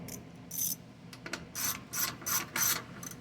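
A ratchet wrench tightens bolts on a Pulsar 72cc 1200 W generator, producing short, close bursts of rapid clicking separated by brief pauses.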